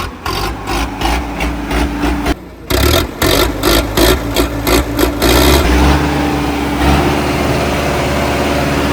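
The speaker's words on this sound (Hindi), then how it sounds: "यहाँ पे सिर्फ इंजन घूमने की आवाज़ आ रही, बाकी कुछ भी नहीं।" A Sonalika tractor engine running without its silencer, a loud, raw, close rumble with rapid chugging pulses that settle into a steady drone.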